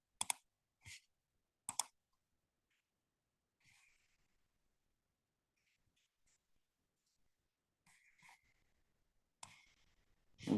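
Sharp mouse clicks on a computer while choosing shutdown from a File menu, a few crisp taps near the start and more scattered clicks later, close and clear against near silence.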